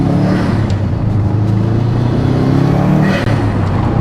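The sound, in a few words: Subaru Impreza STI exhaust burble with HKS intake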